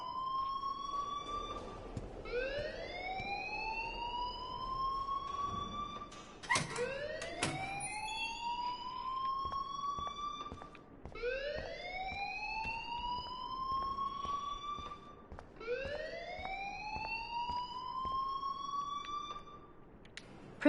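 A wailing electronic alarm in the Life is Strange video game, sweeping upward in repeated rising whoops, about four cycles, steady and prominent.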